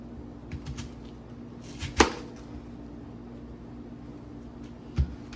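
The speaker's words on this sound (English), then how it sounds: "then I slice up my onions" A knife slicing onions on a board gives two sharp, isolated chops about three seconds apart, close and clear against a quiet kitchen background.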